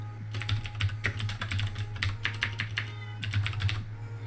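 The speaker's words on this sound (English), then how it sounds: "If I type," Keystrokes on a PLATO terminal keyboard, rapid clattering bursts of clicks in short runs with brief pauses, close and clear over a constant low electrical hum.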